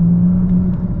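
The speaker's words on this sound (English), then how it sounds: "definitely love the sound the exhaust makes though on overdrive with the little gargles" Bentley Continental GT W12 engine and exhaust in overdrive, a steady low droning hum with slight gargling texture, close and continuous without any talk.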